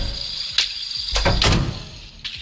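A room door closing as someone leaves, a few sharp knocks and thuds with a scraping slide in the middle, heard close up over a quiet background hum.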